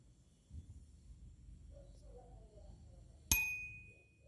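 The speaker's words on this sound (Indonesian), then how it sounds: "ketika bel sepeda dipukul, suara bunyi lonceng tersebut akan merambat melalui udara" After a few soft low bumps of handling, a bicycle bell is struck once, producing a single bright, clear metallic ding that rings and fades over about a second in an otherwise quiet room.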